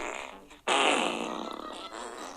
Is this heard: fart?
yes